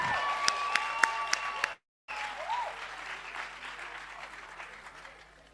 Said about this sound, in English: Let's just have another round of applause for that amazing poet.